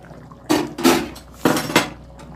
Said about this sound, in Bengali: দিয়ে এবার আমি ঢাকা দিয়ে দেব।